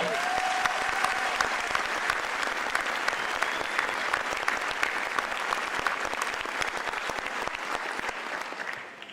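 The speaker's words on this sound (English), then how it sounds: "Another applause is in place. Let's do it." Crowd applause at the swearing-in of a new Los Angeles County sheriff, a steady wash of many hands clapping for about nine seconds before fading at the end.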